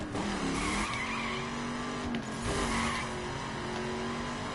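Car tires lock and skid under braking without ABS in The Crew racing game, a sustained squealing screech over engine noise that holds steady for several seconds.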